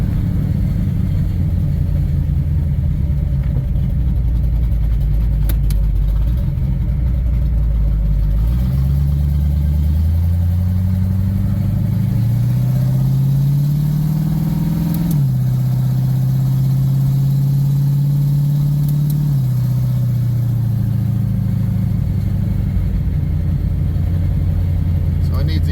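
A Fox-body Ford LTD LX engine with bad exhaust leaks idles in a low rumble and then revs up to a sustained, raspy drone before settling, loud and close throughout.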